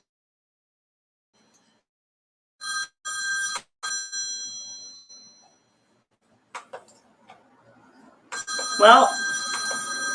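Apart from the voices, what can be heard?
phone ringing in the background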